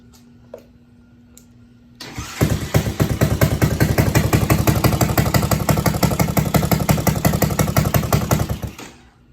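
A Grom clone motorcycle engine catches on a cold first start without choke and settles into a steady, loud idle with rapid even pulsing, running alone for several seconds before cutting off.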